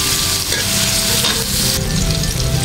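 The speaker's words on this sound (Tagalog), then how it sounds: "So yan lang almusal natin, ipiprito natin yan." Eggs and breakfast food fry and sauté in a pan, a steady dense sizzle with occasional stirring scrapes, close and continuous with no voices.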